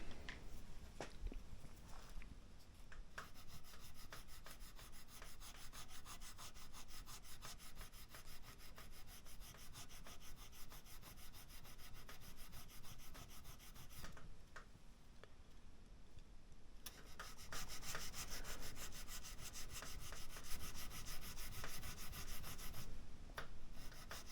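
A 180-grit fret eraser rubs back and forth across a guitar fret, a faint, steady close-up scrubbing with small ticks, growing slightly louder and more continuous toward the end.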